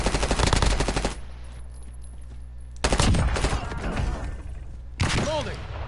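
Rapid automatic gunfire from the Black Ops 6 Warzone video game, loud bursts of machine-gun fire in three separate volleys with quieter gaps between, and a voice heard briefly amid the shooting.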